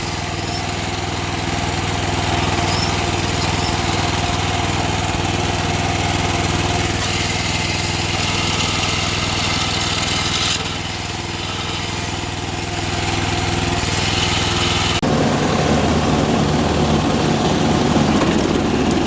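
An old Sears lawn tractor runs with its mower deck engaged, a steady, loud engine drone with whirring blades that holds throughout, with a brief dip in level partway and a rougher tone near the end.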